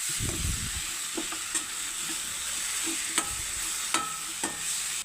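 Onion, tomato and green chilies sauté in a pan with a constant hissing sizzle. A spoon stirs and clinks against the pan now and then, with a few sharper taps and no voices.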